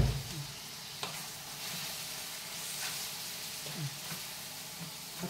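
Chicken liver tipped into softened onions in a hot pan sizzles with a steady, moderate frying hiss, with soft stirring clicks and a few crackling bursts, no voices.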